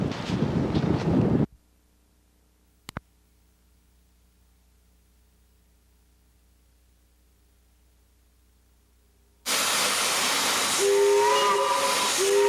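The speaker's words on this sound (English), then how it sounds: "the sound of a train whistle was right at home in Duluth, as was the hiss of a coal-fired steam engine" A coal-fired steam train whistle and steam hiss: a loud hissing burst at the start, near silence with a brief click, then a strong steady hiss with a tonal whistle rising near the end.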